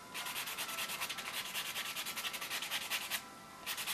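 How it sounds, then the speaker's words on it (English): A buffer lightly rubs sealed pink-and-white dip-powder nails in quick, even back-and-forth strokes, a close, steady scratchy sanding that pauses briefly near the end. "you don't need to buff a lot. Just a little bit like this."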